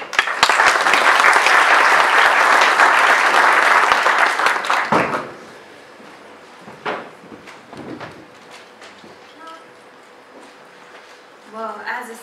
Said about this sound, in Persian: تشویق بفرمایید